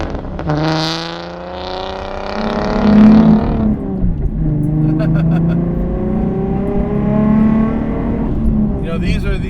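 A modified 2008 V6 Mustang with weight reduction mods is driven hard, its engine rising through several revving pulls with gear changes, loud and close from inside the car.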